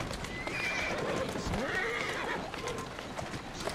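A horse whinnies and its hooves clip-clop as it pulls a carriage in the Victorian London street game Assassin's Creed Syndicate, the neigh rising clearly over steady game ambience and hoofbeats.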